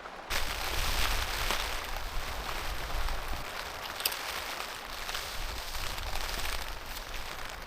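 Steady rain at a mountain campsite patters and hisses continuously on a surface, a dense, even wash of noise with occasional sharper drips, no voices.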